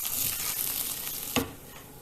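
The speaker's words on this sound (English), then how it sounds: "I'll toss the rice till it becomes translucent." Rice tossed and fried in a pot over low to medium heat gives a steady soft sizzle, with one sharp scraping stir partway through before the sizzling quiets a little.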